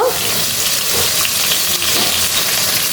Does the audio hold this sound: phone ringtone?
no